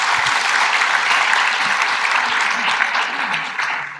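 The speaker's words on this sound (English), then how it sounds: "Please give your round of applause to them." Applause from a forum audience, a dense, steady wash of many hands clapping throughout, loud and sustained before tapering slightly at the end.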